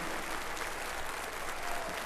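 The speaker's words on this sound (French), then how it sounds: "Le public applaudit, vous l'entendez très chaleureusement et continue encore." Concert audience applauds warmly after the finale of Stravinsky's Firebird played by an 80-piece orchestra in Compiègne, a dense, steady wash of clapping from a large hall, continuous with no talk.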